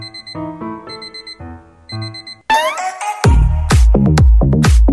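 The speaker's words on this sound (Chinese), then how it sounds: "二货学生听到闹钟响。" Game alarm clock in Minecraft rings loudly with repeated electronic beeping tones, then a sharp burst of loud clattering, ringing hits takes over toward the end.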